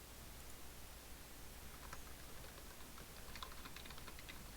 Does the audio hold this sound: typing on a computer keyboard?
yes